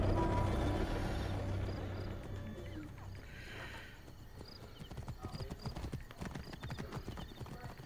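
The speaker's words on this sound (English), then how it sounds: "Horses." Horses in the Assassin's Creed Origins video game trot with rapid clip-clop hoofbeats, a brief whinny rising over wind and ambient game sound, the steps growing denser toward the end.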